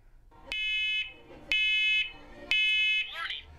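A household smoke alarm pressed into test mode gives three loud, shrill electronic beeps, each about half a second long, evenly spaced with short gaps and a brief warbling tone at the end.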